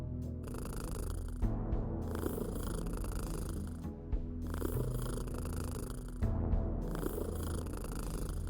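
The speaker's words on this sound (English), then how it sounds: "bask in the sounds of Mildred purring for a bit" A cat purrs steadily in the video game Kathy Rain 2, a soft, continuous rumbling purr in repeating breath cycles with brief pauses between them, close and alone with no talk.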